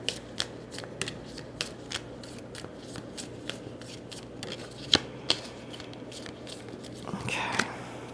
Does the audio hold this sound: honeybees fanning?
no